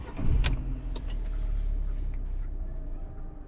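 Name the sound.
2012 Fiat 500 engine starting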